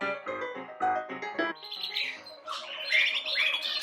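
Birds squawk and call loudly and continuously, harsh cries giving way to shrill chirps and whistles, with no voices.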